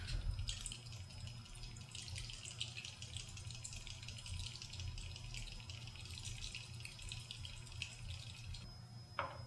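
A small sealed plastic soil test vial is shaken vigorously, giving a continuous wet, sloshing rattle at close range over a low background hum, stopping near the end.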